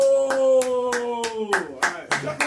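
Spelling bee audience clapping during a show, a few people clapping in a steady rhythm of sharp claps while a sustained tone carries underneath.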